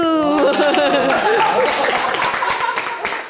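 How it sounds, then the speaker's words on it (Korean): People in a classroom clap in a short burst of close, sharp claps. Several voices talk and chuckle over the clapping, which thins out toward the end. "정말 박수!"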